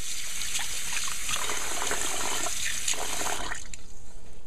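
Water pours and trickles out as washed basmati rice is drained, a close, steady splashing flow that tapers off near the end.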